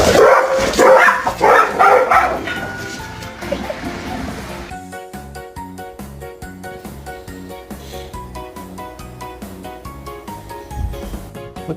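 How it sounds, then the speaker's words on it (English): A dog barks and yips in a loud, rapid burst over the first few seconds, then gives way to steady background music with occasional faint yelps. "Look at how gentle this dog is."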